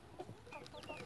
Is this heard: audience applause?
no